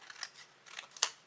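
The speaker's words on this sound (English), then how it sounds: "I'm just using the edges of the glass as a guide to cut around my image" Paper snips cutting around a printed paper image, a few faint, close, crisp snipping clicks spaced unevenly, the last one sharper, with no talk.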